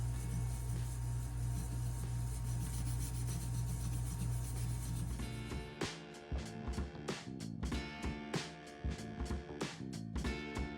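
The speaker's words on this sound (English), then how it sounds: "I'm going to sharpen up my X-Acto knife" An X-Acto knife blade being sharpened, first heard over a steady humming background, then with a series of short, rhythmic scraping strokes close up.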